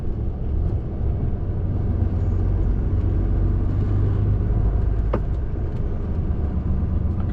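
A truck loaded with tons of brick drives along the A1, its engine and road noise forming a steady, loud, low rumble heard from inside the cab, continuous throughout with one brief sharp knock partway through.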